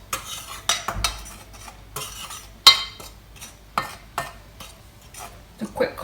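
A utensil stirs pancake batter for a blueberry and orange traybake, clinking against a bowl in quick irregular scrapes and taps, fairly close and moderately quiet.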